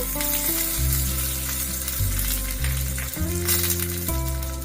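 Curry leaves dropped into hot oil already holding whole fenugreek and cumin seeds, for curd rice, crackle and sizzle steadily and loudly for a few seconds over background music.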